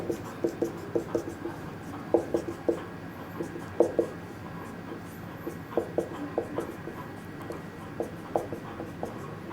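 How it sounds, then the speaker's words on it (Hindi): A pen scratches across paper in short, irregular strokes while a set theory solution is written out by hand, with soft taps and pauses between strokes, close and fairly quiet. "तो ठीक है, अगर हम लोग बिना लिखे अगर जान पाए तो ज़्यादा अच्छी बात है, लेकिन हम लिख कर दिखा देते हैं"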